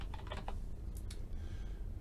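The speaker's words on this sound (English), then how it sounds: "and I start typing calculus." Rapid typing on a computer keyboard while entering a title into an Excel search field: a quick burst of close, crisp key clicks with no voice over them.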